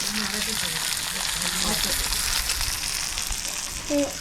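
Curry leaves frying in hot oil, giving a dense close crackling sizzle throughout, with faint voices audible in the background.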